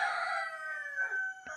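A rooster crows once: a loud, sustained, close-by call lasting over a second, with no talk over it.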